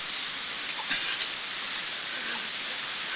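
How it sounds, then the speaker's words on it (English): Steady rain falling outdoors, a continuous soft hiss of drops on surfaces at moderate distance, with no voices. "I have to leave the place because the rain has come"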